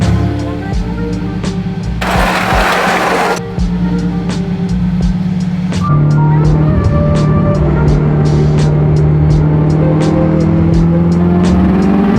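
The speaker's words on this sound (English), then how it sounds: "I'm just gonna do a little second gear tip in and see what happens." A tuned Honda Civic Type R engine hums steadily, then climbs in pitch as it accelerates hard in second gear, the drone rising smoothly over several seconds with a brief burst of noise early on.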